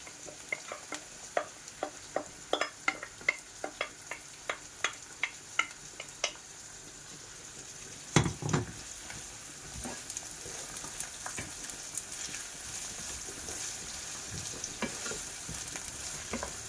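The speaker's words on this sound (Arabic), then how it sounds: "غادي نحركهم شويه يتقلاو" Wild asparagus and green peppers frying in a pan while being stirred, opening with a regular series of ticking taps, then a louder scrape and a steady, fairly quiet sizzle with occasional spoon scrapes.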